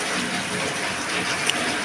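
Heavy rain pours steadily in Mahad, a dense, even wash of falling water close by, constant and loud throughout with no voices.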